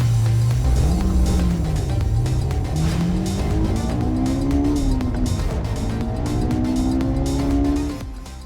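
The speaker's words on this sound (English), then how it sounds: "we are driving the all-electric BMW i7" A 2023 BMW i7 xDrive60 all-electric luxury sedan underway, a loud steady drive with rising and falling whine tones and road roar, fading slightly at the end.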